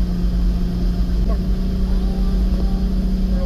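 A vehicle engine hums steadily at high revs after a downshift to third near 55 mph, a loud, constant low drone with a faint voice underneath.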